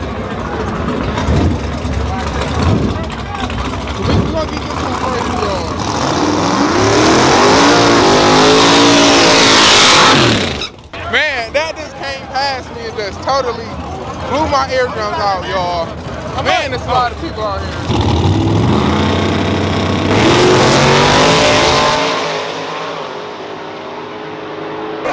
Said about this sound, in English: I just wish y'all could hear how loud these cars really are.